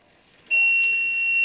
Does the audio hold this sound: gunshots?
no